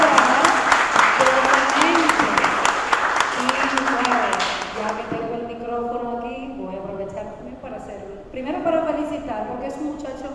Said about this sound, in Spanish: a quien le vamos a dar un fuerte aplauso